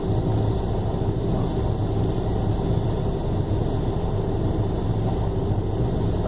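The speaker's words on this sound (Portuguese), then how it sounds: "Ah, tá sem marcha lenta essa Kombi." Volkswagen Kombi engine with no idle, running rough while driving, a continuous loud droning rumble heard from inside the vehicle, steady throughout with no speech.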